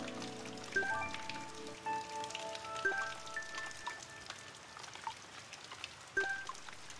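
Steady rain falls in the video game Blue Reflection: Second Light, a soft continuous patter running under sustained tonal music notes.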